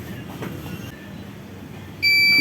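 A heat press timer beeps during sublimation printing on a dri-fit t-shirt. The loud, steady electronic tone starts abruptly near the end and cuts through a low room hum.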